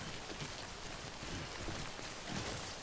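Steady, faint rainfall hisses continuously in the video game Death Stranding, a soft, even wash of falling rain with no voices.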